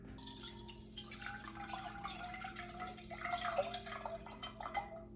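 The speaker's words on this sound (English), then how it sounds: "I'm just going to pour the infusion in." Mint infusion is poured through a strainer into a pan, making a steady, faint trickle with dripping and splashing throughout, and no voices.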